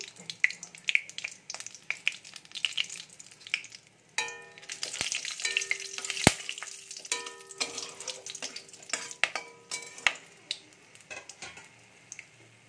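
Two bay leaves and whole garam masala dropped into hot oil for chicken curry with cashews, crackling and sizzling with sharp pops and metallic clinks of a spoon against the pan, busier in the second half.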